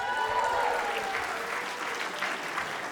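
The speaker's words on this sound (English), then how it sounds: "Give yourselves a round of applause." Audience at a wedding reception applauding steadily and close by for a few seconds, a dense wash of clapping with a faint voice at the start.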